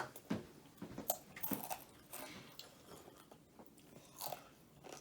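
Takis Fuego rolled tortilla chips crunched close up, a series of sharp crisp bites followed by wet chewing crunches, quiet and uneven in rhythm with no talk.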